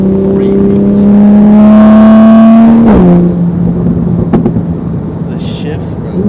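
Toyota Supra with a B58 engine, aftermarket downpipe and no tune, revs hard and loud up to a peak, then drops back through a shift into a lower, rumbling drone, with voices around it.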